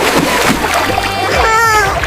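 Water splashes and sloshes loudly and steadily, poured out in an animated mythological scene, with a voice speaking over the splashing.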